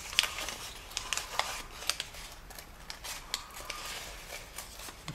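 Origami paper is creased and folded into a scorpion, with quiet crisp crinkles and sharp snapping rustles in irregular bursts, close but faint, and no talking.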